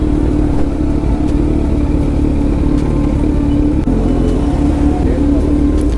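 A Kawasaki Z900 motorcycle engine rumbles and revs loudly up close on a first ride, a steady low throb with brief clattering bursts, while people speak over it.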